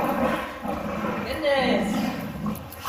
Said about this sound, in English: My favorite part of coming home is seeing the dogs.